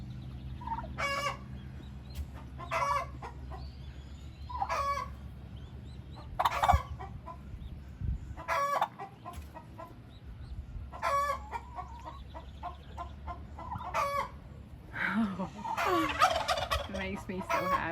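Young turkeys and chickens gobble and cluck in a brooder, a string of repeated close calls roughly every second or two, busier and overlapping near the end, with no speech.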